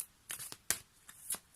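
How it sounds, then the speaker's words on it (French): Tarot cards are drawn from a deck in a handful of crisp, papery flicks and slides, spaced irregularly and heard close up with no talking over them. "je vais terminer ce tirage avec une carte issue des murmures de Ganesh"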